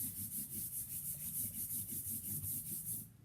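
Hands rubbing adhesive tape firmly down onto a surface, a steady run of quick back-and-forth strokes with soft scuffing friction, close and continuous with no talking.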